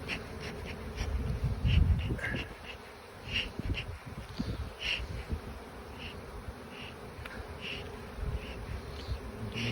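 Honey bees hum in a dense, continuous buzz close by at a newly transferred hive being smoked and inspected, with individual bees droning past and occasional soft bumps and rustles underneath.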